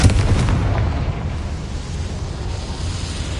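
A Confringo blasting spell goes off in a video game: a sharp, loud blast right at the start, then a rumbling roar that slowly fades over a few seconds.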